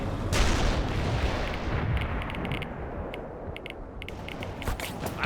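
Gunfire and artillery in World in Conflict roll on continuously, a dense, loud barrage of booms and shots with rapid crackling bursts layered over a heavy low rumble.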